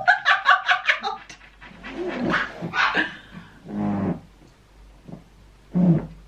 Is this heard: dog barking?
yes